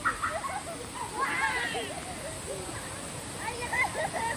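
Steady rushing river water flows throughout at a bathing spot in Indang, Cavite, a broad wash of sound with voices talking faintly over it.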